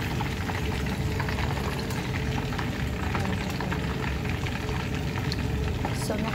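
Food frying gently in oil over low heat, a dense, even crackle and bubbling that holds steady throughout, close and moderately loud with no talk over it.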